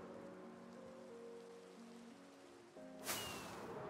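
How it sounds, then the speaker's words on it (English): Steady rain falls in the video game Minecraft, a soft continuous hiss that carries the whole time, with faint tonal game music underneath and a brighter noisy swell near the end. "Of course, it's raining."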